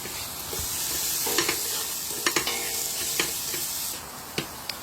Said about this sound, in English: we're just going to fry the onion